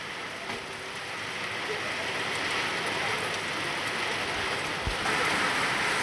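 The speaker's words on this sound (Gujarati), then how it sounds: "વરસાદ ફૂલ છે." Torrential rain drums down during a windy storm, a thick continuous roar of drops on nearby surfaces that swells slightly louder toward the end.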